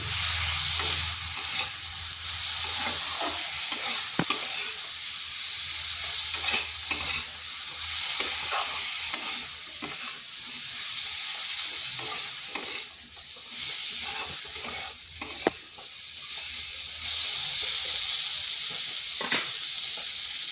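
Starfruit frying in a pan with a pinch of turmeric and chili powder, a steady close sizzle and hiss with occasional stirring scrapes and small crackles running throughout, no voices.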